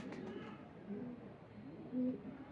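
A domestic pigeon coos softly, with two or three low, rounded coos spaced about a second apart, fairly faint against quiet room noise.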